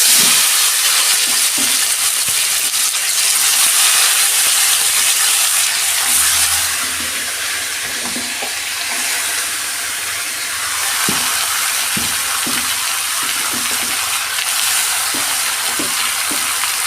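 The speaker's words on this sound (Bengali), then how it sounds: "আমি ম্যারিনেট করা মাংসটা দিয়ে দিচ্ছি।" Marinated chicken for a restaurant-style kadai chicken hits hot oil in a pan already holding chilli, bay leaves and whole cumin, giving a loud, steady broadband sizzle with occasional stirring clicks throughout.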